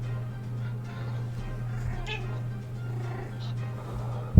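A cat gives a couple of short meows, one in the middle and another shortly after, faint and fairly close, over a constant low hum while people talk.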